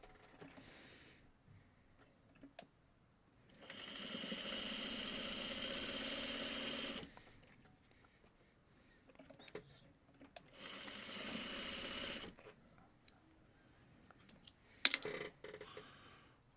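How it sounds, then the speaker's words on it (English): Sewing machine stitching pieces of a quilt block, heard in two sustained runs of steady mechanical whirring of about three and two seconds, separated by quiet handling noises and a sharp clack near the end. "So I will sew this part and then down."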